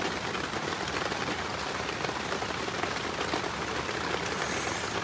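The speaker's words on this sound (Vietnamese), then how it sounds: "Mưa quá trời luôn rồi." Heavy rain drums steadily on a tarpaulin shelter in a forest, a dense, continuous hiss and patter that stays loud and even throughout with no voices.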